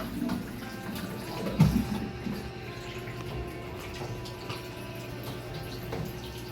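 Tap water runs into a kitchen sink while dishes are rinsed, a soft steady trickle with faint clinks and one brief louder splash early on, and no talk.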